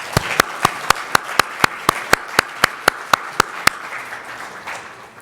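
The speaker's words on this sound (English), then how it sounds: "I would like a round of applause for all of our speakers" Applause from an audience at a critical care medicine global health event, led by one loud, close, steady clapper with about fourteen regular claps over a broader wash of crowd clapping that fades toward the end.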